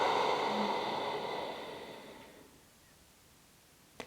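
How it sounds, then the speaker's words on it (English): A slow exhale through the nose with the throat slightly constricted, giving a soft, ocean-like hiss that fades gradually over about two seconds into near silence, ending with a tiny click. "when you exhale, the air actually comes through your nose and you'll feel a slight constriction at the back of your throat"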